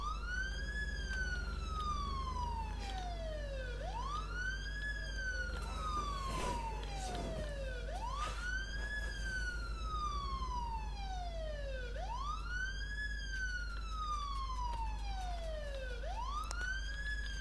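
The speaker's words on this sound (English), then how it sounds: "Put the sirens on." A police siren in the video game State of Decay wails in repeated rising and falling sweeps over a constant low engine hum, steady and moderately loud throughout, with no speech.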